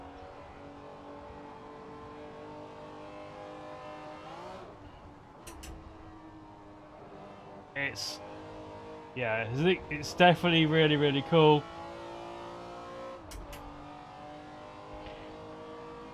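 A BMW M1 Procar race car drones steadily in Assetto Corsa, with a brief louder rev burst midway while someone talks over it throughout.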